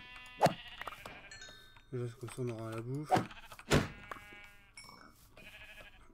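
A sheep in a video game gives a drawn-out, wavering bleat, with a few shorter game sounds around it while someone talks in French.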